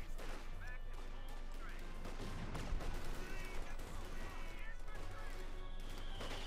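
MG42 machine gun fire in Company of Heroes 2, a steady clatter of automatic bursts mixed with battle noise and impacts, fairly faint and continuous, with a commentator's voice partly over it.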